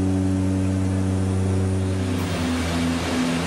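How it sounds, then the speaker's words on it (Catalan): Propeller plane engines roar during takeoff on a flight in the Everest region, a loud, steady droning hum with strong tonal layers that shifts slightly in pitch partway through, with no talking. "Pel soroll dels motors, semblava més un tractor que no un avió."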